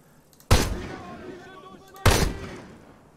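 A sawn-off shotgun firing pellet rounds in ARMA 3 booms twice, about one and a half seconds apart, each blast sharp and loud with a short rumbling tail.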